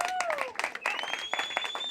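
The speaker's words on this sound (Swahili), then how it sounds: "Pigia Yesu makofi." A church congregation claps rhythmically for Jesus, the fairly soft, quick claps mixed with voices and singing.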